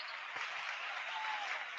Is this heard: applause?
yes